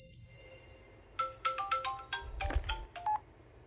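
Phone ringing in a Sun Wukong video game: a melodic electronic ringtone of rapid repeated tones in short bursts, fairly close, over a low background hum, with no speech.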